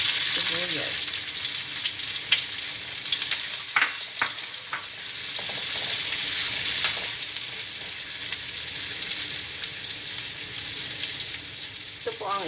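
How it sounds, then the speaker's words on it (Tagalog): Onions fry in a pan with a steady, bright sizzle, broken by a few clinks and stirring sounds, while someone speaks briefly in the background. "Kaya lutuin lang po yung sibuyas."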